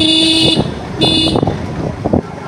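Several short car horn toots in a row, loud and close, over the rumble of a nearby engine.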